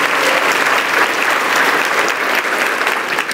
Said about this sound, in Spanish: te damos un aplauso con este calor precioso